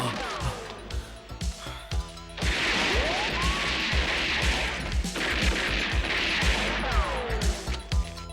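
Rapid bursts of gunfire crack repeatedly in a film action scene, with sharp impacts and crashing debris amid a tense, dramatic music bed.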